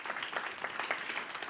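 A brief round of applause from an audience at a speakers' retreat, soft, fairly distant clapping that holds steady through the moment.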